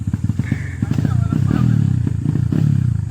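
An XR 150 trail motorcycle on an enduro mountain trail revs loudly up close, a rapid pulsing engine note that climbs and holds, with clattering and thumps from the ride and riders talking over it.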